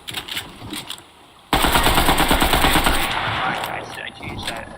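Bursts of SMG gunfire in a Fortnite trios match, a sudden loud stream of rapid shots that starts partway in and keeps rattling for several seconds over busy game noise.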